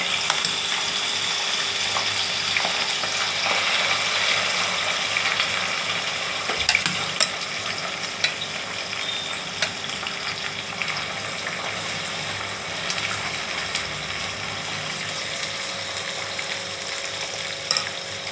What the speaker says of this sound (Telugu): ఆయిల్ హీట్ అయిన తర్వాత ఈ దొండకాయలు ఇలా తీసుకొని దీంట్లో డైరెక్ట్గా ఇలాగే వేసేయాలి